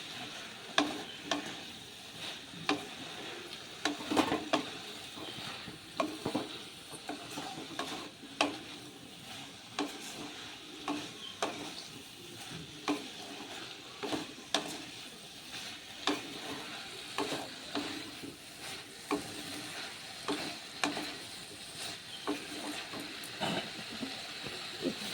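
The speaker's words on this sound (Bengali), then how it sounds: "আমি এটাকে ভেজে নেব, একটু কষিয়ে জল দিয়ে একটু ঢাকা দিয়ে দেবো" Pumpkin stalks, potato and eggplant fry in a pan for a chorchori, a steady sizzle with bursts of stirring scrapes and clatter throughout, close and moderately loud with no talking.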